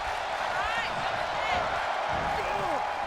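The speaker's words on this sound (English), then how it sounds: "This crowd seems into it." Arena crowd noise from the WWE 2K23 video game during an Asuka vs. Tegan Nox wrestling match: a steady, dense roar with faint whistle-like tones rising through it, filling the whole stretch.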